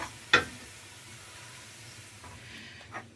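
Rice frying with onions in a pan, giving a faint, steady sizzling hiss, with one sharp clink near the start and a couple of soft scrapes toward the end.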